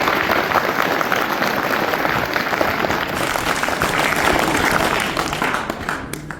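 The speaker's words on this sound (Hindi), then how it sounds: "तो एक बार फिर से बजाओ देखिए तालियां।" School students at a government senior secondary school clap together as a group, a dense, steady burst of applause lasting the whole stretch with no gaps, fairly loud and close, with no speech over it.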